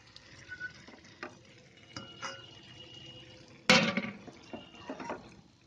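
Sugar syrup poured into moong dal halwa in a pan, with quiet stirring scrapes, then a sudden loud splash and sizzle as the liquid hits, followed by more stirring.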